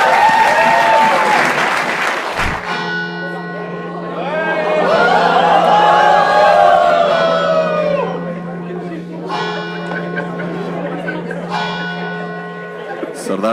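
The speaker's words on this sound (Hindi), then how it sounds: "ताली बजाएं एक बार, round of applause for self." An audience at a comedy escape-room show claps in a loud, dense burst of applause that swells, peaks, then tapers, with cheers and crowd chatter mixed in, close and lively.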